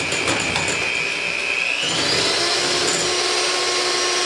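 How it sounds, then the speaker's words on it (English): An electric mixer whisks marshmallow mixture in a loud, steady whir whose whine rises in pitch partway through as the speed increases, close and continuous. "And now I'm going to whisk it"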